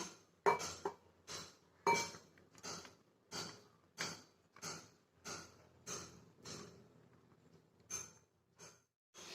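Ground bread crumbs scooped from a grinder jar into another bowl, a regular series of about a dozen close scraping clinks of spoon against container, evenly spaced and fairly quiet, with no talk.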